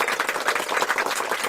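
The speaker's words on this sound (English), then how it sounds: "click on the clap" A short clapping sound effect from the Bigo Live app plays as a quick, even run of claps with no voices over it.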